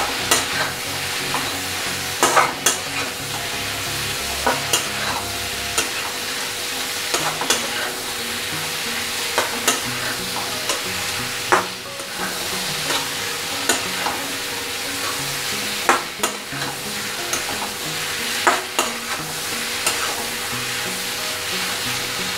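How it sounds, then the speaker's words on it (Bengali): Pointed gourd pieces fry in hot oil in a pan for a prawn and gourd curry, with a constant sizzle broken by repeated scraping stirs of a spatula. "ভালো করে ভেজে নিতে হবে।"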